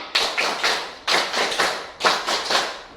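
Groups of sharp hand claps in a steady rhythmic pattern from a classroom clapping game, three quick claps per bar repeated, crisp and close.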